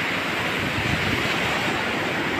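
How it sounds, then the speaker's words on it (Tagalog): Big monsoon waves crash against a seaside stone wall under construction, a steady, loud, unbroken roar of surf and spray with wind buffeting the microphone throughout. "Ang lalaki ng alon."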